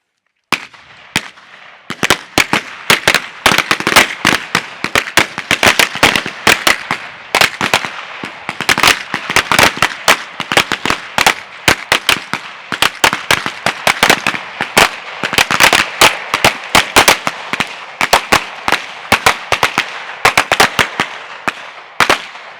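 Rapid bursts of gunshots from shooting practice at a firing range, loud sharp cracks in dense irregular volleys with short pauses, continuing for the whole stretch with no voices.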